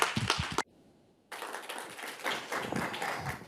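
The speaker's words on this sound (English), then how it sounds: "please welcome you all to give a big round of applause for our speakers today" Audience applause for speakers at a technology panel event, a dense patter of many hands clapping, briefly cut to near silence for about half a second before resuming at moderate volume.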